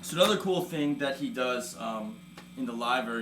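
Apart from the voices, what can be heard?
No distinct noise like a dog, phone or traffic.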